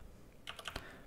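Fingers tap a few quick, quiet keystrokes on a computer keyboard, a brief cluster of clicks over faint background hiss.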